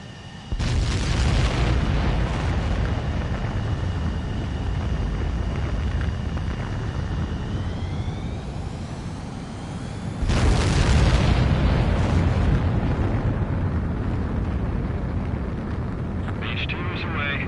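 A jet fighter takes off in Ace Combat 7: a loud, continuous engine roar swells and holds, eases slightly, then surges again with renewed thrust midway through and stays heavy to the end.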